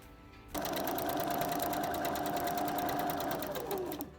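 Sewing machine zigzag-stitching black ribbon over a grid to make lace, one continuous close run of rapid steady stitching that starts abruptly and stops after about three and a half seconds.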